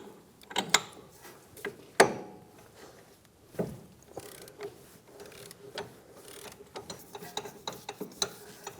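A large wrench working the inner tie rod free on a 2013-2017 Honda Accord: scattered metallic clicks, ratcheting ticks and sharp knocks at close range over a quiet garage background.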